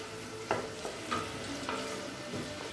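Onions sauté in a pan for egg curry, a soft, continuous sizzle with a few faint stirring scrapes, heard from close by but at low volume.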